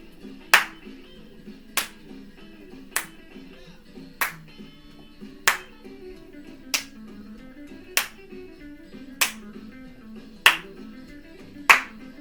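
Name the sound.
hands clapping during exercise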